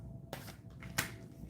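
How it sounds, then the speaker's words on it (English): Tarot cards riffling and spilling out during a shuffle, two quick papery bursts of flicking cards close by, the second sharper and louder, over a faint room hush. "See these cards just flying out?"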